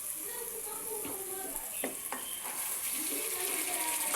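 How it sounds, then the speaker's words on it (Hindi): Turmeric, cumin, cinnamon and coriander roasting in a pan for a Pakistani chicken and bottle gourd dish, a steady close sizzle with a few scraping stirs running through it. "इतना भूनेंगे ताकि इसकी अच्छी तरह से भुनाई हो सके, कोई भी मसाला जो है वो कच्चा ना रह जाए।"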